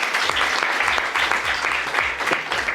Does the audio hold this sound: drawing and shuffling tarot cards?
no